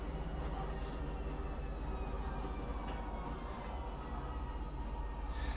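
Inside the video game Star Citizen, a train pulls into Central Station. A loud, continuous low rumble of rolling carriages fills the whole stretch, with faint squeals and clanks on top and no voices.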